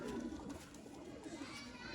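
Golden pigeons coo softly in low, rolling throaty calls, mixed with background chatter and children's voices at a fairly low level.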